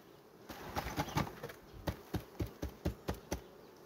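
Honey bees buzz faintly in the background as a hive frame and diaphragm board are handled, while a series of sharp, rhythmic taps and knocks sound close by, roughly evenly spaced.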